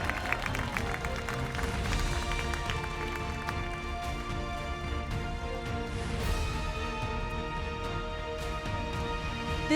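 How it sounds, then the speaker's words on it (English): Steady applause fills an awards ceremony hall, a continuous wash of clapping from a large audience with no pauses. "Another round of applause to Leo Randolph"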